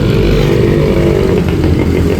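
A Honda PCX 160 motorcycle engine idles close by, giving a steady, loud mechanical chugging with a faint clatter for a couple of seconds.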